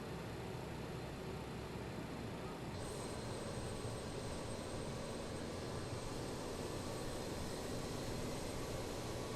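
A BAe 146 jet engine spooling up in Microsoft Flight Simulator, a steady, loud broadband roar with a constant hum and a faint rising whine that appears partway through.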